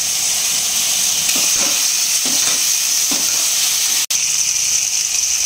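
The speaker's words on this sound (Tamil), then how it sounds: "இப்போ கத்திரிக்காய் முருங்கைக்காய் போட்டுக்கோ" Eggplant and drumstick pieces sizzle and fry steadily in a hot pan, with a few soft scraping stirs and a brief sharp click near the end; no one speaks.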